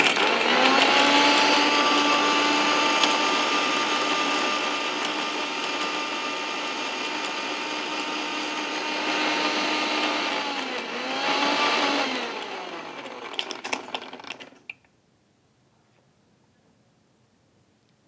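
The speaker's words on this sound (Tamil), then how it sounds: "இதையெல்லாம் சேர்த்து நான் அரைச்சிக்க போகிறேன்." Kitchen blender grinding white pumpkin with palm jaggery for a cooling drink, a loud, steady high motor whir that dips and rises in pitch a few times before spinning down and stopping, leaving near silence.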